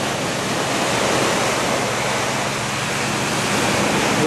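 Ocean waves roll in at high tide on a sunny Thailand beach near a boardwalk, a dense, steady wash of surf noise that stays loud and unbroken throughout.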